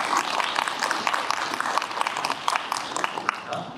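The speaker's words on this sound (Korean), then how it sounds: "박수 부탁드립니다" Guests at a climate-crisis citizen policy design group launch ceremony applaud an introduced guest, with quick, dense clapping filling the hall at moderate volume throughout.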